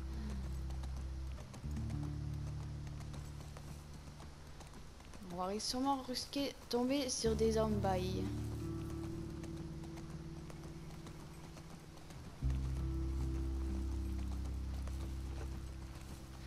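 Horse hooves clip-clop in The Last of Us 2 video game, a steady muffled plodding beneath a continuous low rumble, while someone talks in French over the middle stretch.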